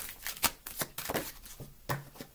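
Tarot cards are shuffled close by in a series of quick, soft riffles and papery slaps, with several short bursts spaced irregularly over a couple of seconds.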